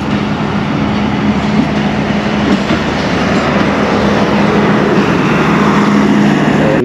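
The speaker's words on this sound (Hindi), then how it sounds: "अभी आप डिपार्चर देख रहे हैं एट डाउन तेज़गाम का" The Tezgam express train pulls out of Gujar Khan railway station in Pakistan, a steady loud rumble of rolling wagons with rhythmic rail clatter and a sustained low hum, close and continuous.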